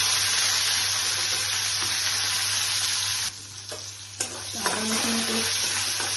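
Chopped onion fries in a pan for a Bengali chola dal curry with chicken and prawns, whole spices like cinnamon already in the oil, giving a steady loud sizzle with a spatula scraping and stirring near the end.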